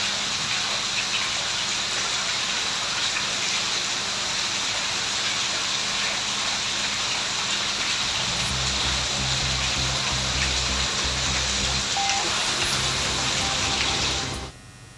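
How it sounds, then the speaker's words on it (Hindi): Torrential monsoon rain in Karauli pours down as a steady, loud, hissing rush of water. Near the end, a low rumbling layer joins the rain before the sound cuts off abruptly. "करौली में मूसलाधार बारिश का दौर लगातार जारी है।"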